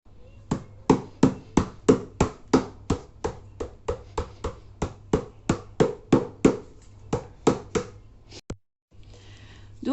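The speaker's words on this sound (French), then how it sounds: "On vient taper pour enlever la poussière et tout ça." A vacuum cleaner filter being tapped to knock out dust, a quick run of about twenty sharp, close knocks at a fast regular rhythm, followed by a brief pause and faint handling noise.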